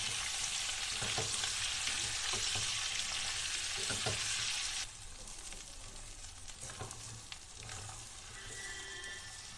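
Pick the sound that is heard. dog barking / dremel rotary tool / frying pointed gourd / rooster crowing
frying pointed gourd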